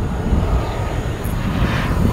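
An RC turbine jet aircraft roars past at full power, a loud, continuous rushing whine and rumble that fills the moment without any talking.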